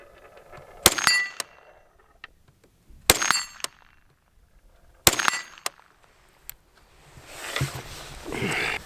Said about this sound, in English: Three shots on the gong.